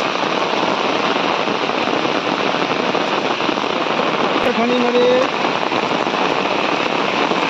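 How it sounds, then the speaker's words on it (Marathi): Heavy monsoon rain pours steadily on a village in Kondvi, a dense, unbroken roar close by, with a brief spoken word cutting through midway. "बघा पाऊस वाढलेला आता"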